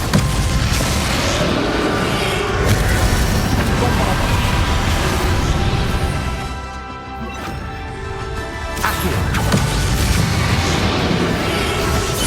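Confringo fire-blast spell from Hogwarts Legacy erupting in a boss battle against Ranrock, a loud, dense explosive crash with booming low rumble that dips briefly mid-way before surging again, continuous and close.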